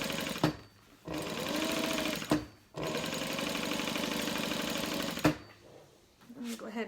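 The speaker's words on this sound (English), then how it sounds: "we're just going to top stitch down this vinyl side" Sewing machine topstitching the vinyl side of a tote bag about 1/8 inch from the edge, running in steady rapid bursts with brief pauses between stitching runs.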